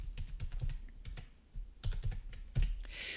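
Typing on a computer keyboard while working in Microsoft Project: short bursts of close key taps in uneven clusters with brief pauses between them, and no speech.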